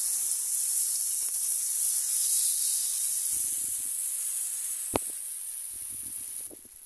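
A steady, loud sizzle of masala paste frying in a pan for paneer curry, a constant bright hiss with a few faint clinks and taps in the background.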